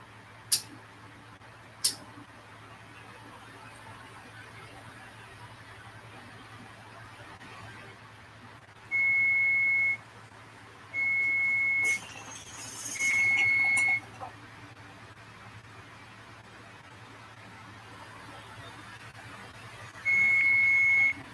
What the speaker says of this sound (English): my timer is gonna blow off now